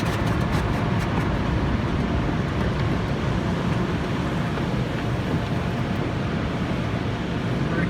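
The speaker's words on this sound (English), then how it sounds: "feels like grocery carts being thrown into our car" Automated car wash brushes scrubbing over a car heard from inside, a dense continuous loud thrashing and rumbling roar with no letup.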